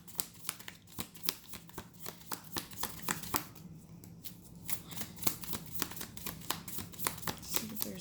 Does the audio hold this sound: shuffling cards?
yes